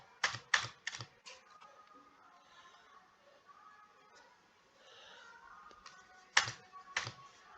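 Close, fairly quiet computer keyboard clicks, a quick burst of three or four keystrokes at the start, then scattered single presses and a final double press, likely including the Enter key, over faint room noise.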